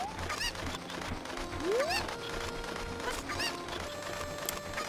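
A chicken in the video game The Legend of Zelda: Ocarina of Time clucks and squawks in short bursts amid quiet game sounds, fairly faint with no talk.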